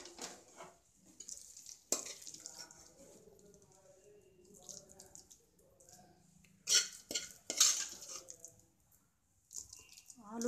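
Aloo methi curry being scooped from a pan into a serving bowl, giving soft scraping and clinking of a spoon against metal and a few sharper knocks, with a person talking quietly over it.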